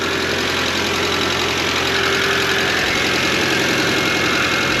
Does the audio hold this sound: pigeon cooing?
no